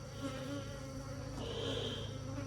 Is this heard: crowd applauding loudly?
no